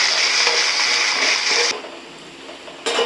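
Onions sizzle steadily in a hot pan while being sautéed for biryani, a loud continuous hiss that drops away briefly before returning, with no talking.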